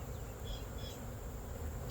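Honey bees buzzing in a garden apiary as a frame is shaken off over the hive, a dense, continuous close-up hum from many bees.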